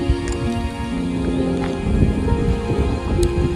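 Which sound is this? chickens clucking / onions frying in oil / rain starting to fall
rain starting to fall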